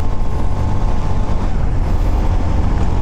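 A Honda BeAT 110 Fi scooter straining uphill on a mountain ride, its small engine droning loudly and steadily with wind rush over the whole stretch.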